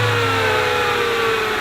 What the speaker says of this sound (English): Then you run the engine to circulate it.